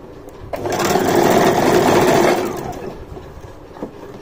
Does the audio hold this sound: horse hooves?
no